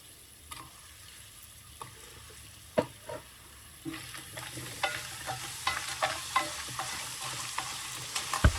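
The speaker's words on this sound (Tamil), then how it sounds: "நண்டுன கால் பகுதியை போட்டு கொஞ்சம் நேரம் வதக்குங்கோ." Crab legs sautéed in oil for a spicy Sri Lankan crab curry, with a steady sizzle and a run of sharp spoon scrapes and clinks against the pan that grow busier toward the end.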